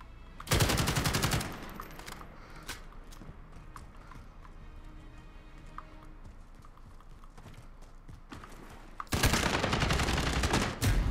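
Automatic weapons fire in a Call of Duty Modern Warfare team deathmatch: a loud, rapid burst opens the moment and another closes it, with scattered quieter shots and game noise in between.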